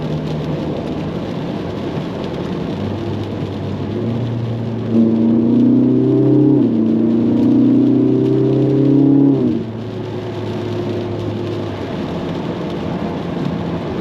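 A Ferrari 458 Italia with its 4.5-litre V8 on a rainy drive, a low droning engine note that swells into a louder rising rev for a few seconds, then settles back under steady rain and road hiss.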